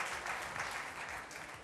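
Applause from the audience at a Miss Mondo regional final for Lombardy and Piedmont as a guest is introduced, a steady wash of clapping from many people heard from some distance.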